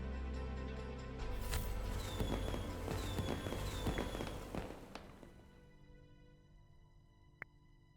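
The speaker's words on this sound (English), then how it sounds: "Fireworks." Fireworks in the strategy game The King is Watching burst in a crackling volley of pops and whistling streaks, loud for several seconds before fading into quiet, ending with one sharp tick.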